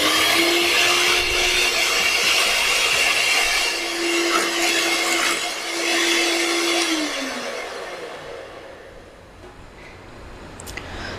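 An electric mixer whips 2.5 cups of cream for an eggless butterscotch cake, a loud, steady whirring drone that holds for several seconds, then its motor pitch winds down and the noise fades away.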